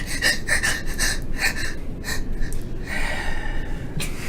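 A human voice imitates a dying goblin breathing quickly, producing rapid, ragged gasps and wheezy breaths in a close, continuous run without words.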